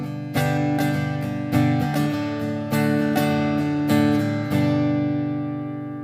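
Strummed acoustic guitar with its low end cut and tone set to a middle notch, steady rhythmic chords ringing close and clear on their own, with no voices.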